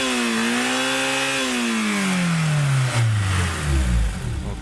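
A Honda S2000 AP1 engine is revved hard toward its maximum RPM while sitting in place, its harmonic tone climbing steadily, then dropping back through a falling, rumbling decay, loud and close, with no voices.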